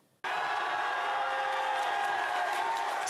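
A crowd cheering at the No campaign headquarters in Glasgow, a sudden steady roar of voices and whoops that starts after a short quiet moment and holds loud to the end.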